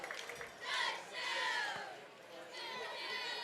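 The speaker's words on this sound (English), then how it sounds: "And this is a fired up Salem Wildcat crowd." Fired-up home football crowd at a Salem Wildcats homecoming game, a dense roar of cheering and shouting voices that swells in waves, loud and sustained throughout.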